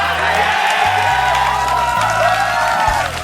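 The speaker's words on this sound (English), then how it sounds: "Stop cheering in the audience." An audience cheers and whoops at a 2010 GSL StarCraft II tournament match, a loud, continuous crowd roar layered over pulsing arena music.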